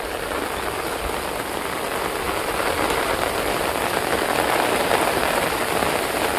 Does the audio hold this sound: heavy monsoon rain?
yes